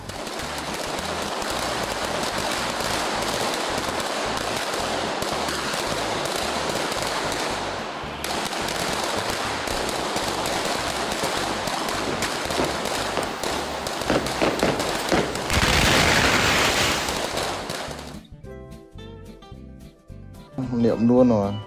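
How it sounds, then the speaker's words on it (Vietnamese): A firecracker dropped into a house goes off in a long, dense crackling barrage of pops, loud and continuous, swelling near the end before giving way to quieter sounds. "ai ngờ gặp ngay cậu báo, nó thả viên pháo vào nhà"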